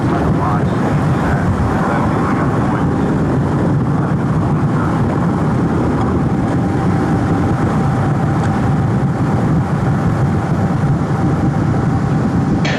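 The Space Shuttle Atlantis rumbles on its final launch while climbing near solid rocket booster separation, a loud, continuous broadband roar that fills the whole stretch without a break.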